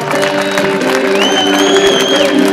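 Audience applause for a young boxer at a ceremony, a steady wash of clapping and crowd noise throughout, with sustained tones and some voices running underneath.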